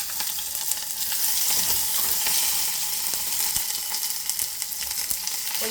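Onions frying in oil with dried chili and curry leaves, a dense, steady crackling sizzle heard up close with occasional stirring ticks and no talking.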